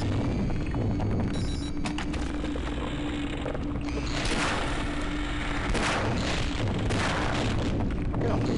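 Explosions and gunfire from the video game Half-Life boom and crackle over a dense, continuous roar of game sound effects, with a louder burst around the middle and a player's voice faintly mixed in.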